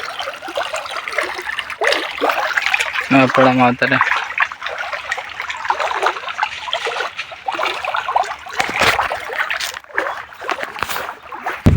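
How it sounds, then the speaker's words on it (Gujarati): Irrigation water flows into a farm field in a Gujarati village, giving a steady close rushing and trickling with someone talking over it. "દેખાડું આ પાણી છે"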